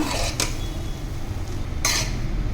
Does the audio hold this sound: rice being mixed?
yes